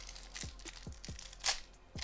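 A plastic bag wrapping a Piranha 5450 LED-lit stand being torn open by hand, heard as a series of short crackling rips spaced roughly half a second apart, close and fairly quiet, ending in a brighter crinkle.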